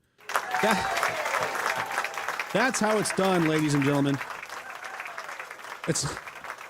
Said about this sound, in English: We need to applaud this person.